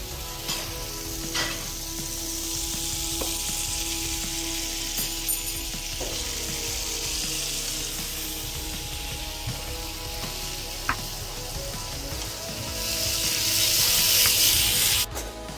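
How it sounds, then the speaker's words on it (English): Chopped vegetables and parsley fry in a pan for an omelette, giving a steady, close sizzle with faint scraping of stirring, and the crackle swells louder near the end. "So while my vegetable is frying"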